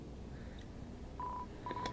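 Telephone dialing tones in the video game Deltarune: a few short, clean keypad beeps in quick succession over a low, quiet background, with no voice present.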